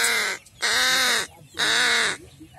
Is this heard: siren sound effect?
no